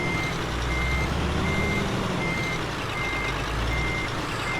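Truck reversing alarm in Euro Truck Simulator 2: a steady series of evenly spaced beeps sounds over a constant low diesel engine drone, with no talking.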